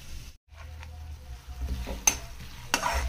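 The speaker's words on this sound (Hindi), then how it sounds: "तो प्याज मैंने धीमी आंच में सॉफ्ट, थोड़े हल्के से सॉफ्ट किए हैं।" Onions soften in a pan over low heat for egg bhujiya, with a gentle quiet sizzle under spoon stirring and a couple of sharp scrapes and clinks against the pan.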